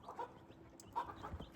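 Buckeye heritage-breed mother hens cluck in short, soft bursts nearby, a few low calls scattered over a quiet farmyard background with no talking.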